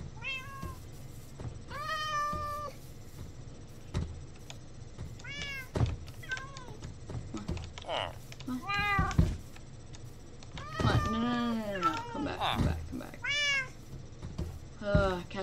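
Cats in Minecraft give repeated meows, some short and some drawn out and rising, spread across the clip at close range, with no talking.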